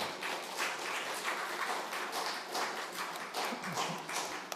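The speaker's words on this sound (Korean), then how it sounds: "박수." A church congregation claps for graduates, a fairly faint, distant scatter of hands that rises and falls in loose bursts, with no talk on top.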